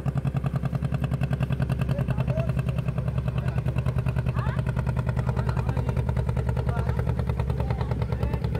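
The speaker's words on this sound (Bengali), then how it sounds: "আর একটা আসছে ট্রলার।" A trawler boat's diesel engine thumps in a fast, steady chug on a river, a rhythmic mid-range pulse that stays fairly loud and close throughout.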